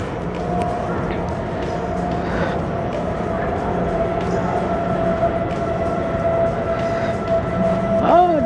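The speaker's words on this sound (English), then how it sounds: "my train is coming in about 3 minutes" A Munich S-Bahn train pulls into a busy station, its steady rolling rumble and a sustained tonal whine running throughout at close range, with faint announcement-like sounds and crowd voices underneath.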